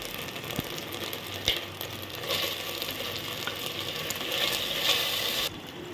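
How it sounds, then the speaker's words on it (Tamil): Onions, ginger garlic paste and tomatoes sauté in a pan for jackfruit biriyani, a continuous close sizzle with scraping and clicking stirring sounds. "இப்போ இந்த ஆனியன் எல்லாமே நல்லா கோல்டன் ப்ரௌன் ஆகிற வரைக்கும் நம்ம இதை நல்லா வதக்கணும்"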